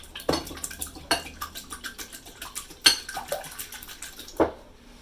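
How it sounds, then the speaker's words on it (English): Eggs beaten in a bowl for scrambled eggs at a breakfast of Belgian waffles and sausage gravy: a run of quick, rhythmic clinking whisk or fork strokes against the bowl, with a few sharper knocks standing out, close and fairly loud. "So I'm going to beat this up really good."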